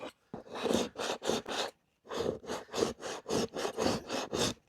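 Back of a pickaxe scraping an animal hide in repeated rough strokes, a quick burst of four followed by a steady run of about ten, close and loud with no talking.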